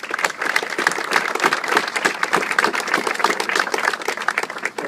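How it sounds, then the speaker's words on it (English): Audience applause at an indoor event on Florida tourism with the governor: a steady, dense burst of many hands clapping at close range, unbroken for about five seconds with no talking. "let's do also another big round of applause for everybody that's making this happen"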